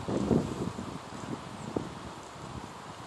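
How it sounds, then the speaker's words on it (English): Wind buffeting the microphone in low, steady gusts, with a soft rustle beneath and no voices. "It's very windy out here today."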